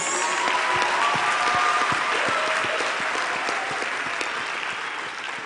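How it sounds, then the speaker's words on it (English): An audience at a university graduation ceremony applauds a choir, dense sustained clapping from a large crowd that gradually thins toward the end. "I think our choir deserves another round of applause."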